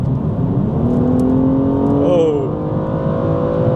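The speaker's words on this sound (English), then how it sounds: "That 6-cylinder sounds really good." BMW M235i six-cylinder engine pulling hard on kick-down along a country road, heard from inside the car as a steady rising drone that climbs in pitch, with a brief shift and a short exclamation.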